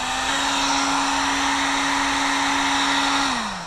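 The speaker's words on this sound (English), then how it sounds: "Heat gun." A heat gun blows steadily on heat shrink tubing slipped over a wire connection, a loud, constant whooshing hum with a fixed motor tone that drops in pitch as it winds down near the end.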